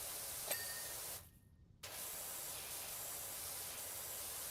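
Pressure washer in a video game blasting a dirty license plate, a loud continuous hissing spray that cuts out briefly for a split second and then resumes at full force.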